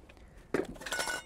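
A metal frying pan from a car-camping kit for a Haval H9 off-roader gives one sharp clatter partway through, followed by softer rattling as it is handled nearby.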